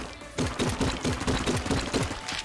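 Rapid gunfire from the game Enter the Gungeon, a quick, rhythmic run of about eight or nine punchy shots that fire in close succession, loud and alone.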